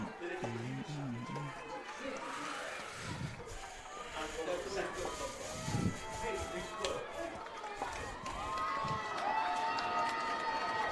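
Crowd noise at a high school football stadium during the Hermits versus Holy Spirit game, a broad distant roar and cheering that swells toward the end, with an announcer talking over it.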